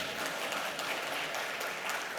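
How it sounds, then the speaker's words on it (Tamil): Audience applause at a women's entrepreneurship policy session, a steady broadband patter of many hands clapping continuously throughout, fairly even in level with no talk over it. "என்ன கைத்தட்டுங்க."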